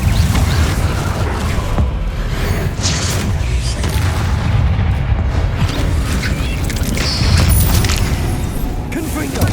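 Bombarda explosion spells from Hogwarts Legacy going off as a steady barrage of heavy booms and crashes, mixed with other spell effects and spoken incantations throughout.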